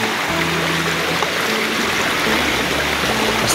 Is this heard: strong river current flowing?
yes